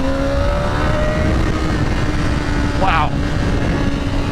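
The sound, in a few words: 2025 BMW S1000RR motorcycle accelerating through the gears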